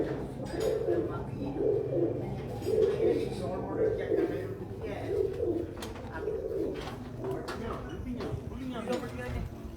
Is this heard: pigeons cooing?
yes